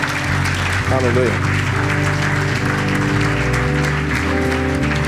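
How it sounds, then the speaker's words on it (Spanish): A church congregation claps under live worship music while a voice calls out. The applause is steady and moderately loud, blended with held organ-like chords. "Dale un aplauso al Señor."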